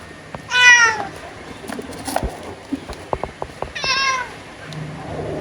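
A rescued cat meows twice, each call clear and fairly close, separated by scattered small taps and shuffling noises, with no one talking.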